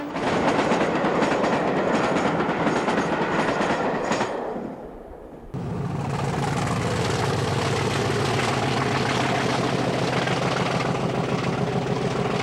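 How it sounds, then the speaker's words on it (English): A British Rail Class 33 diesel locomotive hauls a Portsmouth Harbour to Cardiff passenger train past, loud and close, with a steady rumbling engine drone and rhythmic wheel clatter, briefly dipping before the roar resumes at full strength. "Also seen quite regularly were Class 33s on the Portsmouth Harbour to Cardiff services."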